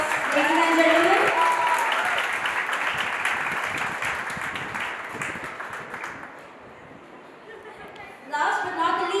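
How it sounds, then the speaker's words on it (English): An audience applauds at an awards event, a sustained wash of clapping that starts over a speaking voice, fades after several seconds, and gives way to talk again. "May I have a big round of applause, ladies and gentlemen."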